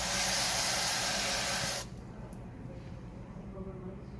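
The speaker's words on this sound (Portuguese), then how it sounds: "Então vamos aplicar o spray, ó." Aerosol spray hisses loudly onto a phone circuit board for nearly two seconds, then cuts off abruptly, leaving quiet room tone; no talk during the burst.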